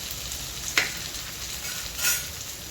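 Oil sizzles steadily on a mixed-flour thalipeeth in a pan, a close, even hiss with a couple of small pops and ticks and no talking.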